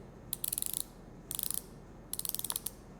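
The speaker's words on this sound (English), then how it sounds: "And when you tighten the boa, it will then" BOA dial on a Lake CX242 cycling shoe being turned to tighten the laces, three quick bursts of sharp, close ratcheting clicks, each burst a rapid run of ticks separated by short pauses.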